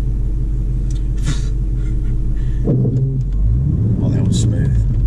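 Manual transmission car pulling away on a hill start, a low steady engine rumble that rises briefly partway through as the car moves off, with talking over it.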